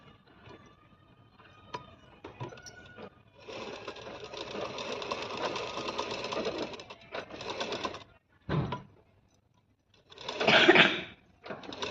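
A sewing machine stitches fabric in bursts, a fast mechanical whirring run of several seconds followed by shorter spurts, heard up close in a quiet room with small handling clicks between.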